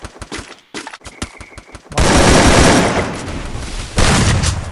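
Video game gunfire opens with a quick string of sharp, separate shots, then breaks into a loud, dense burst of sustained automatic fire close to the listener.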